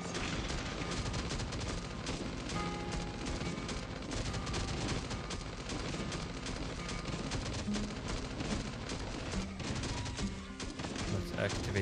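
Turret in Last Day on Earth: Survival firing continuously, a dense unbroken rattle of rapid shots that stays loud and close for the whole stretch, with a voice talking at times over it.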